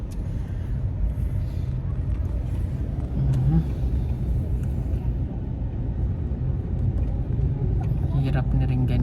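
Steady low engine rumble and road noise fill the inside of a moving car, continuous and close, with people talking over it.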